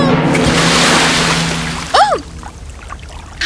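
In a cartoon, a tiny figure splashes into a sea of salty tears, and a loud, rushing wash of water gradually fades. A voice then gives a short exclamation.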